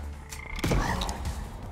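Frogs croaking in the co-op space shooter From Space, a burst of overlapping croaks amid a dense, loud bed of game noise and explosions, peaking midway through.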